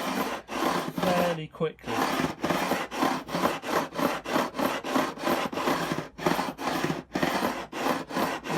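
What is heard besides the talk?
coarse grit file filing a guitar neck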